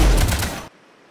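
Burst of rapid gunfire in the sci-fi shooter Mass Effect 2, loud and dense for under a second, then cutting off abruptly to near silence.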